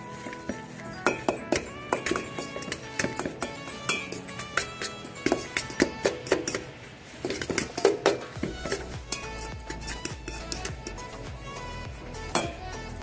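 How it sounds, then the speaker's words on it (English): Jackfruit taco filling is stirred in a pan, a utensil repeatedly clinking and scraping against the metal in an irregular rhythm, close and moderately loud, with soft sizzling beneath. "give this a good stir"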